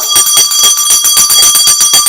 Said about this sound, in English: Good old-fashioned Tibetan bell